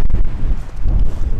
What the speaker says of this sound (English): Yeah, it's really windy right now.